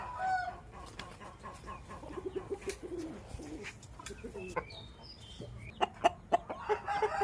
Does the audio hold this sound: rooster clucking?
yes